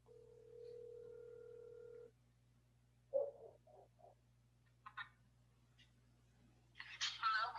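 A telephone call is placed, with a steady dial-tone-like hum for about two seconds, then brief tones and chirps, followed by faint voices talking near the end.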